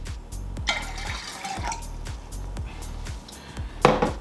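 Roughly 100 ml of water is poured into a measuring jug in a kitchen, a close trickle and splash broken by faint knocks, with a sharper gush near the end.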